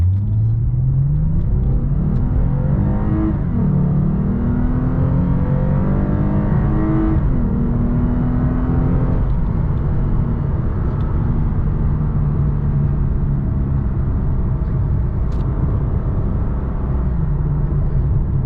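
A 2015 Lexus RC350 F Sport accelerates at full throttle, heard from inside the cabin. The engine note climbs through several gear changes over a loud, continuous rumble, with no talking.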